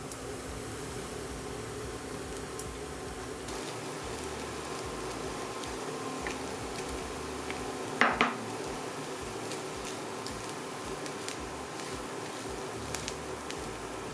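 Minced meat fries with onions and butter in a pan, giving a steady low sizzle with a sharp clink of a utensil against the pan partway through.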